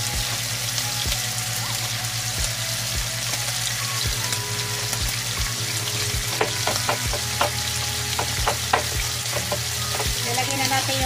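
Food sizzles steadily in olive oil in a pan, with a low rhythmic tapping and clinks of a utensil against the pan running under the frying.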